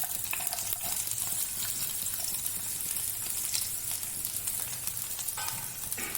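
Chopped garlic sizzles steadily in olive oil in a pan, a dense, continuous frying hiss with occasional stirring scrapes, close and alone without voices.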